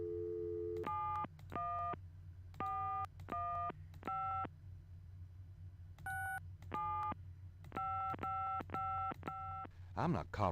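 A telephone busy signal in the Gabriel Knight: Sins of the Fathers adventure game repeats as evenly spaced tonal beeps with brief gaps, over a steady low background hum, with a quick dialing flourish and a brief voice at the end.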